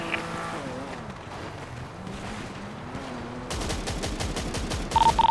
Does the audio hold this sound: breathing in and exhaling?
no